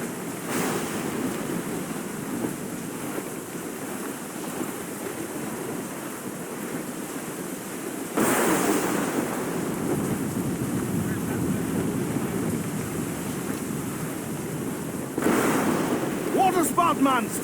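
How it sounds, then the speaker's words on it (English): Sea waves and heavy wind roar around a sailing ship in Assassin's Creed IV: Black Flag as a waterspout nears, a constant loud rushing wash with stronger surges partway through and near the end. "Water spout, man! Stay away!"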